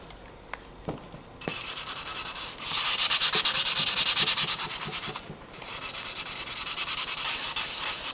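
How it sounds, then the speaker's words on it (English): Close, steady back-and-forth rubbing of 600-grit sandpaper with water, a wet-sounding scrub that starts after a few light knocks and continues evenly without talk. "I'm now going to sand with the 600 with water."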